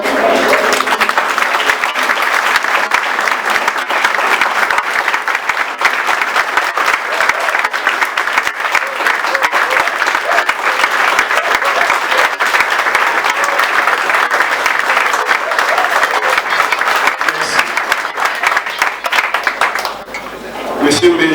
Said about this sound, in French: Permettez-moi de vous demander de vous lever pour faire 30 secondes d'applaudissements à M. B.